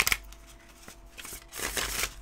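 Thick Wildwood Tarot deck being shuffled by hand, a short riffle at the start, then a longer burst of springy, papery card flutter near the end; close, with no voices.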